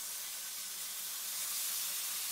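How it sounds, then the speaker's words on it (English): Beef stock, about 900 ml, poured into a beef stew being prepared inside a pumpkin, giving a steady, continuous liquid rush and hiss heard alone at moderate volume. "So I'm going to add 900 mls of beef stock to this."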